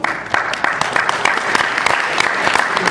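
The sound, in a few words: audience applause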